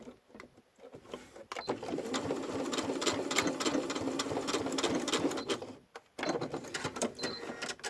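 A sewing machine runs a holding seam on a double coin purse with a snap hook inserted, starting with a few short bursts, then stitching steadily and loudly for about four seconds, pausing briefly, and resuming.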